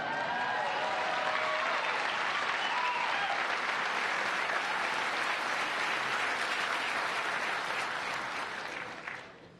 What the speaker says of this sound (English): applause and expressions of excitement are absolutely welcome and desired